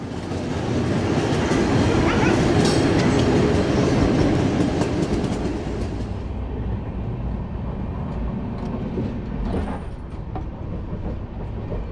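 A super-fast overnight passenger train runs along the rails, a loud, continuous low rumble with rhythmic clatter from the wheels that eases slightly and turns quieter and duller after the middle, with no talk over it.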